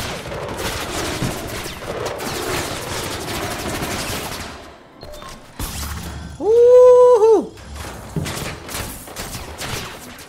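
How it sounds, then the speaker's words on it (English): Turret gunfire in Mirror's Edge Catalyst, a dense continuous rattle of rapid shots lasting several seconds, followed by a rising electronic whine and further scattered bursts, loud and close with no talking. "it's those freaking turrets!"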